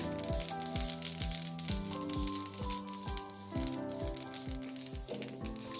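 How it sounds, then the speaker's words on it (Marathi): Sesame seeds dry-roasting in a pan give a steady crackling sizzle, with repeated sharp pops and rattling snaps arriving in a loose rhythm, close and fairly quiet. "थोडी तिडतीड आवाज येईपर्यंत भाजून घेते"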